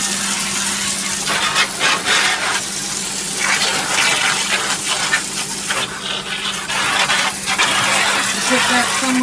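A SparkPod 10-mode high-pressure shower head on a hose sprays water in a strong, steady hissing gush with splattering bursts that change as the stream moves around, heard close up.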